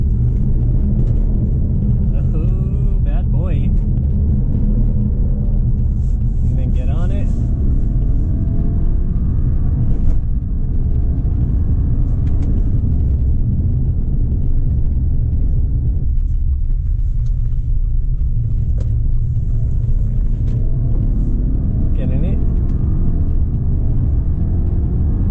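Lifted 2020 Subaru Outback XT driving on a road, heard from inside the cabin: a constant loud low rumble of tyres and engine, with someone speaking intermittently over it.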